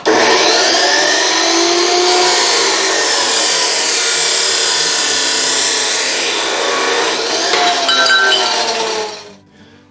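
A saw blade cuts through a metal tube on an MTD carrier: a loud, steady rasping grind runs for about nine seconds, then stops abruptly.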